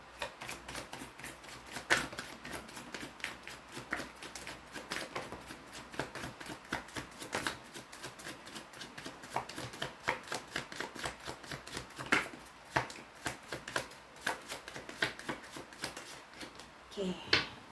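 Playing cards are picked up and handled at a table, a run of quick papery snaps and shuffling clicks close by, with talk intermittently over them.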